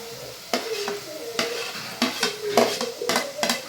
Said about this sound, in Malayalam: ഇനി നമുക്ക് തക്കാളി ഇട്ട് കൊടുക്കാം കേട്ടോ